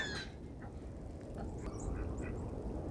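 Birds gather at a winter feeding spot with corn and feed scattered on frosty ground, giving faint, scattered quacking calls over a low, steady outdoor rumble.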